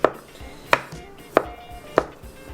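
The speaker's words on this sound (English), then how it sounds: "We're just gonna roughly chop our surimi." Surimi crab sticks being roughly chopped with a knife on a board, four crisp evenly spaced chops standing out over quiet background.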